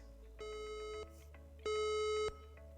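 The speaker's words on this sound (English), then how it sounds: "an alert tone will commence" Building fire alarm alert tone at the National Convention Centre Canberra: two sustained electronic beeps about a second long, the second louder, clean and alone.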